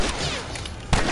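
A single heavy gunshot from The Last of Us Remastered bursts near the end of a short stretch of dense, rumbling game noise, loud and close with no talking.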